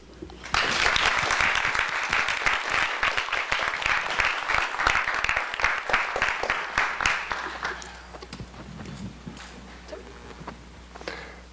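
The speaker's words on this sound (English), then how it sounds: "So I think we should all give her some applause." Applause from an alumni association meeting audience, a full burst of many hands clapping that builds quickly, holds for several seconds, then thins out and fades over a low steady hum.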